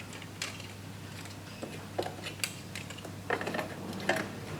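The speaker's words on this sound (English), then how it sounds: "I can put the screw back in on the bottom one, screw that back in, done." Screws being driven back into a Mazda 6 door mirror housing, scattered clicks, ratcheting and small creaks close up, quiet and irregular with no talking.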